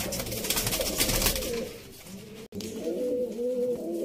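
Rampuri pigeons coo in soft, repeated low calls, close by over a steady background murmur, continuing through most of the stretch after a brief drop.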